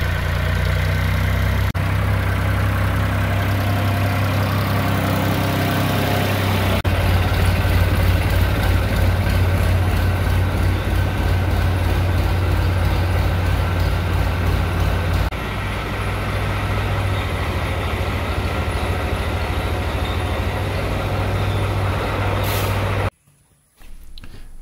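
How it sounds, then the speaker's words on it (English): A Fiat tractor pulling an attached fertilizer spreader drives in, its engine droning loud and steady at close range, chugging rhythmically and shifting in tone before cutting off abruptly near the end. "Now Jeffrey's going to bring the Fiat with the attached fertilizer spreader."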